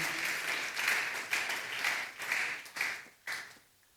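A church congregation applauds and cheers during a worship service, several swelling bursts of dense clapping rolling one after another before fading out at the end.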